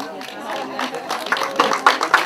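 Sparse, thin applause at a local award ceremony in Josselin where a mayor presents a prize, a few scattered hand claps growing slightly stronger toward the end, mixed with background talking.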